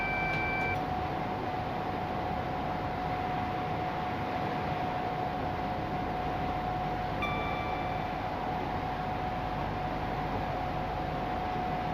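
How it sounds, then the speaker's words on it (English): In the Train Simulator Classic video game, an alarm in the cab of an InterCity IC225 train beeps briefly, two short tones near the start and again later, over a steady loud rumble of cab and running noise. "Just trying to work out what that alarm was for."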